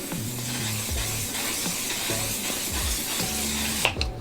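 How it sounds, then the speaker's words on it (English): One Size On Till Dawn mattifying waterproof setting spray misted from a pump bottle in a makeup routine, a steady close hiss running throughout with a few brief sharper spurts near the end, no talking. "Go in with a second setting spray to finish everything off."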